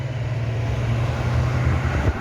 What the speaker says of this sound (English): got a Coca-Cola truck also getting off